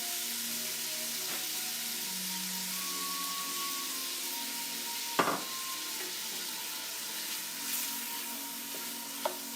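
Oil sizzling in a pot while making lentil soup, a steady, fairly quiet frying hiss that carries through the whole stretch, broken by a single sharp clink near the middle and a few small knocks.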